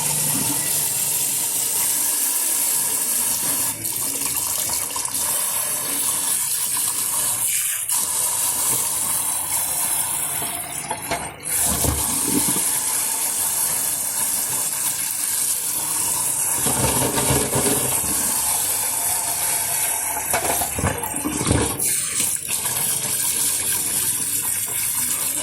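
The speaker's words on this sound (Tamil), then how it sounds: "அதில் சுட தண்ணியை ஊற்றிட்டு அப்புறம் சில் தண்ணியில் இருக்கலாம்" Hot water poured over boiled eggs in a kitchen while making mutton biryani, a steady close gushing and splashing that runs throughout with slight surges.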